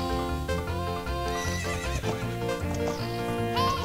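Horse neighing in the video game Zelda Ocarina of Time, a loud whinny with clip-clopping hooves set against dense game music throughout.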